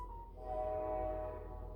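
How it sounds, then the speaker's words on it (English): A morning train passes at a distance, its horn sounding as a sustained tonal blast over a low rumble, moderately loud and unaccompanied by talk. "If you hear the train, I so apologize."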